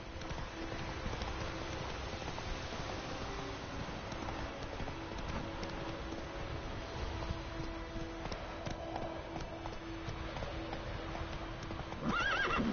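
A horse gallops with rapid, even hoofbeats in The Witcher 3, snorting and neighing now and then, with a brief whinny near the end.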